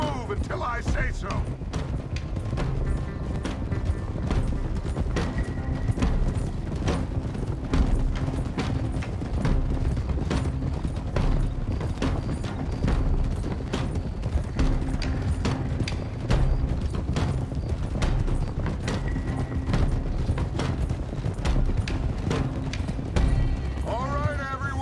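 Horses' hooves clip-clop steadily in Red Dead Redemption 2, a continuous patter of riding under a dense bed of game music and ambience, with voices talking over it.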